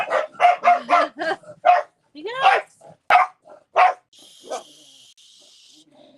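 Lola the dog barks a quick run of loud, close woofs, then yips and a whine, with a voice speaking briefly among the barks.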